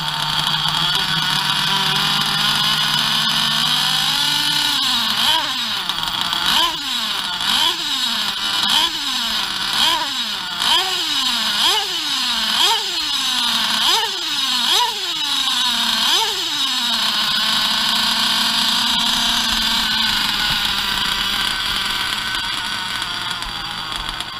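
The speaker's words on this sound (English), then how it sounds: "So this, without a doubt, is the baddest, probably the baddest engine I own." Novarossi RCR .25 Roma nitro RC car engine screaming at high pitch, with a rapid series of about ten sharp throttle blips rising and falling in the middle, then settling back to a steady howl.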